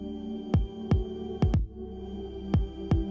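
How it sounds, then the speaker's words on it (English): A heartbeat sent through an Apple Watch plays as soft paired thumps, recurring in an even lub-dub rhythm over a low steady hum, close and muted with no voices. "you can even share something as personal as your own heartbeat"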